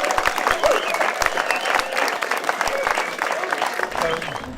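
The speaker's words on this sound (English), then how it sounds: "I think everybody that's run needs a fantastic round of applause" Outdoor crowd at a small-park charity run claps for the runners, a dense, steady round of applause with some voices mixed in, tapering slightly near the end.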